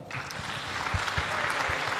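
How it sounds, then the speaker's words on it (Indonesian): Audience applause at a seminar held at UIN Syarif Hidayatullah Jakarta, a steady dense wash of clapping throughout with low thumps underneath. "Tepuk tangan buat Forsa ini"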